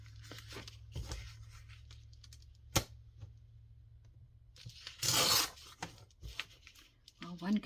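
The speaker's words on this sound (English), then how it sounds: "one good thing about this paper is it rips easy" Junk mail paper is torn by hand in one close, loud rip lasting about half a second, set among small handling rustles and taps, with a person talking quietly at times.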